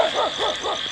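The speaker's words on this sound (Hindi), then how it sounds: "भैया कुत्ते क्यों भौंक रहे हैं यार?" Dogs bark at night outdoors near a graveyard, several quick rhythmic barks in a row at moderate distance, with a steady insect-like hiss behind them and a brief spoken word.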